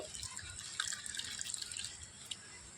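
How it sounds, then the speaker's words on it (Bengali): Chhana and whey poured through a white cotton cloth set over a strainer on a bowl, giving a soft, continuous trickle of liquid with faint dripping, quiet and close. "এবার একটা বাটি নিয়ে নিয়েছি আর বাটির ওপরে নিয়ে নিচ্ছি একটা ছাকনা আর ছাকনার ওপরে দিয়ে দিচ্ছি একটা সাদা সুতির কাপড় এবার ছানা সহ জলটা আমি এর ভিতরে নিয়ে নিচ্ছি"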